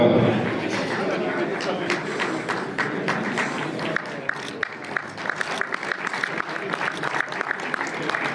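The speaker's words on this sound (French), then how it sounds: "On les applaudit bien fort pour cette division 3 B-Short." A crowd at a sports awards ceremony applauds a prize-winning division, sustained clapping with scattered sharper claps toward the end, mixed with chatter and a voice over it.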